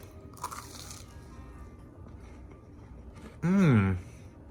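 Someone bites into a toasted coconut cake-mix cookie from the air fryer, making a brief crisp crunch near the start, followed by quieter chewing and a short voiced sound near the end.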